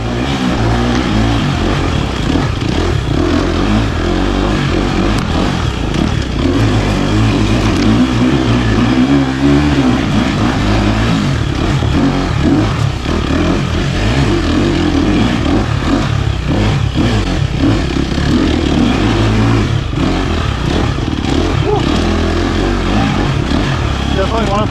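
A loud, constant engine roar from a custom motorcycle build ripping along wilderness trails, with revving throttle changes and wind buffeting throughout.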